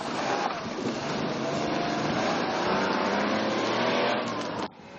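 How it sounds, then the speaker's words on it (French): A Porsche 911 SC engine roars steadily at high revs during a rally race, a loud continuous drive close by that cuts off abruptly near the end. "les différentes générations de Porsche 911, dont ce modèle SC de Jean Sem"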